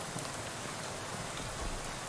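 Steady broadband hiss of rain pouring in the video game Shadows Over Loathing, a dense, even wash with no voices over it.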